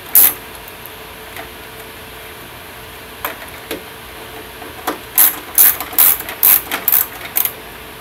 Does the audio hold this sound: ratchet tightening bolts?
yes